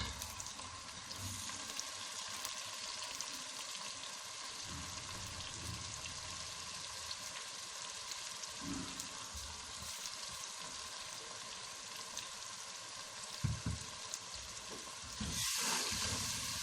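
Ingredients fry in a pot for Multani chicken shorba, a long, steady sizzle heard close up, with occasional stirring scrapes and a louder burst near the end, and no talking.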